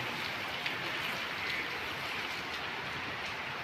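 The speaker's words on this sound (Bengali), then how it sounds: "বৃষ্টির কারণে" Rain pouring steadily during a storm in Dhaka city, a dense, even hiss of falling water at moderate level with no voices or distinct events.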